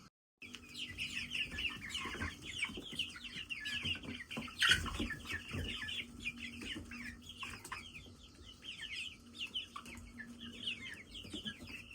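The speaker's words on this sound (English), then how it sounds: "We're going to go check on the baby chickens." Chickens cluck and chirp continuously in a busy flock, fairly close, with a sharp louder squawk partway through and no talking.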